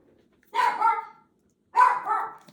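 A dog barking at home after the doorbell rings, two separate close bark bursts with a pause between them and a quiet room around them.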